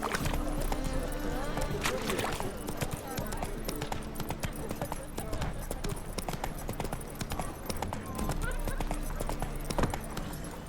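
Roach the horse gallops in The Witcher 3, steady rapid hoof clip-clops close by over ambient background, with someone speaking during the run.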